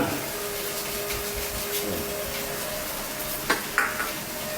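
Vegetables and sugar being stir-fried for a homemade pizza sauce, a steady close sizzle and scraping with a few sharper clinks of the utensil near the end.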